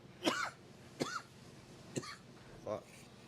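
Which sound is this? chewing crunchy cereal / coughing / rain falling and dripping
coughing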